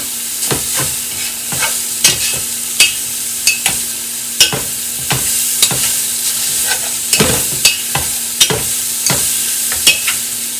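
Italian sausage fries in a greasy pan while a utensil breaks it into pieces, giving a constant close sizzle punctuated by regular sharp scraping and stirring strokes, with no talking.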